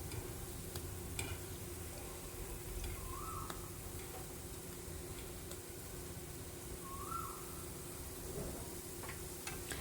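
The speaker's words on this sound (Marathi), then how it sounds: "ह्याच्यावर फक्त गोल्डन कलर यायला हवं इतपतच ह्यांना फ्राय करायचं आहे" Items fry gently in ghee over low heat, giving a soft, steady sizzle with scattered tiny pops and ticks, faint and continuous, with a couple of light chirps in the background and no talking.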